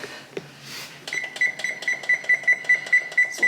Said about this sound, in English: So we'll pop this up to 400 and we will set our timer.